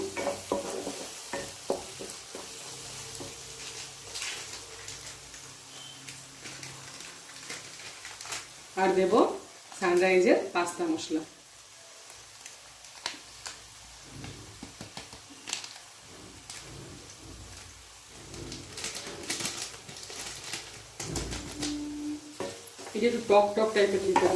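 A spoon stirs vegetarian pasta with chaat masala and amchur powder in a pan, producing close scraping and a faint sizzle. Someone talks over the stirring, and a brief louder clatter of utensils breaks in partway through.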